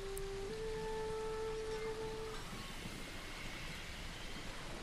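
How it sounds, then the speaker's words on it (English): Rain in the Ghost of Tsushima video game, a soft steady hiss of falling rain with faint tonal game sounds briefly over it at the start. "Let's get rid of this rain."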